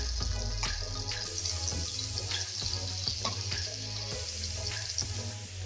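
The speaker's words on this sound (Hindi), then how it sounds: "अब हम इस प्याज के साथ चिकन को मज़ीद मीडियम टू लो फ्लेम पे 5 मिनट और पकाएंगे" Boneless chicken and chopped onion frying in a pan over a medium-low flame, a dense continuous sizzle close up, with scattered clicks and scrapes of stirring.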